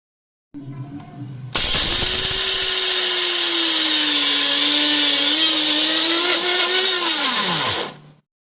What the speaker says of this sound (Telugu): అదేవిధంగా పల్లీలు కూడా మిక్సీ పెట్టేస్తానండి